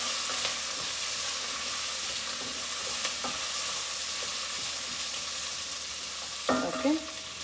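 Chopped baby potatoes frying in a pan for spicy tapioca, a steady soft sizzle throughout with a brief stirring clatter near the end.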